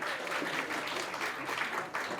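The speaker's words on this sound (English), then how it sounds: "a big round of applause for Christine as she makes her way back to her seat" Brisk audience applause at a magic and illusion showcase in a Blackpool hotel, a dense, lively crowd clapping steadily for a volunteer returning to her seat.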